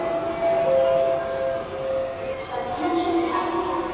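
Recorded subway station ambience piped through loudspeakers aboard a Disney cruise ship, a steady wash of crowd murmur and hum with a sustained siren-like tone and brief train-like swells, continuous and fairly loud.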